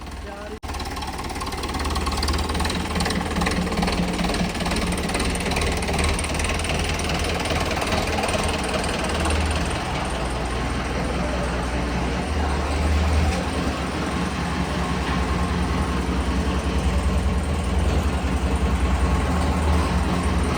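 A tractor engine runs continuously with a loud, rattling mechanical drone and clanking, steady throughout at close range.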